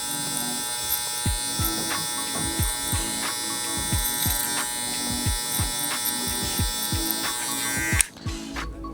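Electric hair clipper with a 4.5 guard and lever closed buzzing steadily close up, with repeated short strokes as it cuts through hair, then cutting off near the end.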